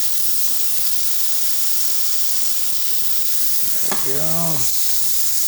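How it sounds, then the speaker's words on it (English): Flank steak sizzles in a hot pan for potato-free steak tortas, a steady loud hiss of frying fat filling the whole stretch, with a brief spoken remark near the end. "that's what I wanted to hear, is a good sizzle like that, because it means we will get a really nice crust on the beautiful flank steak."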